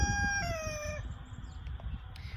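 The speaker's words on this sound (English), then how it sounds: "say hi to my rooster" A rooster crows once in a backyard garden in Michigan in March, its harmonic call falling and trailing off over steady low outdoor rumble, fairly close and clear.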